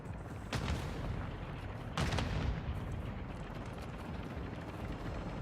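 Two sharp bursts of gunfire from the shooter Call of Duty DMZ cut through a steady background rumble, roughly a second and a half apart, fairly distant and moderately loud.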